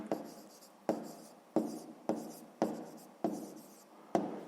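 Pen strokes writing out an answer to a sixth-grade maths problem, about seven sharp, close scratches in a steady rhythm, each fading quickly, with no talking.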